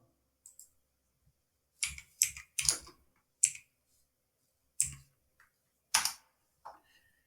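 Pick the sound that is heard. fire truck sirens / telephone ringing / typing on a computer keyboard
typing on a computer keyboard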